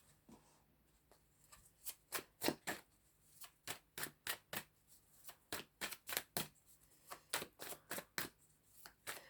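Tarot cards are shuffled repeatedly, a steady series of quick crisp riffling snaps close by, with no talking.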